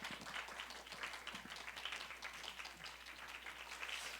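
An audience at a church worship service keeps up steady, dense applause throughout, a continuous moderately distant wash of clapping with no pauses.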